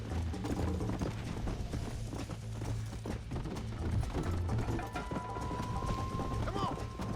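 A horse gallops in Red Dead Redemption, with fast rhythmic hoofbeats under game ambience throughout, and a speaking voice faintly present.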